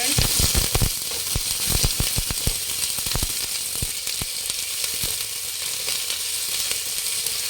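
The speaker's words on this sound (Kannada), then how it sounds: "ಎಣ್ಣೆ ಕಾಯ್ದಿದೆ ಇವಾಗ ಈರುಳ್ಳಿ ಹಸಿಮೆಣಸಿನ್ಕಾಯಿ ಕರ್ಬೇವಿನ ಸೊಪ್ಪು ಹಾಕಿ ಚೆನ್ನಾಗಿ ಫ್ರೈ ಮಾಡಬೇಕು" Onion, green chili and curry leaves fry in hot oil for egg rice. The sizzle is loud and steady throughout, with sharp crackles and pops that come thick at first and then thin out.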